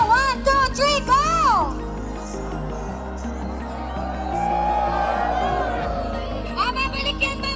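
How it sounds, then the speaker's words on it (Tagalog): A crowd at the Team Payaman Fair 2024 shouts and cheers together while doing the wave, a loud sustained roar between bursts of an amplified host talking. "Okay, wave, one, sigawan na, 1, 2, 3, go!"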